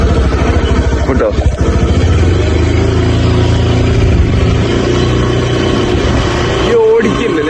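A two-wheeler ridden by a learner rumbles steadily at close range with a continuous mid-pitched engine drone, slight revving swells, and a brief dip near the end, voices talking over it throughout.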